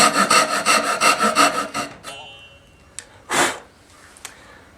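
A hand saw cuts away excess wood from a traced knife handle blank, giving about two seconds of quick, steady back-and-forth strokes up close, followed by a few scrapes and knocks.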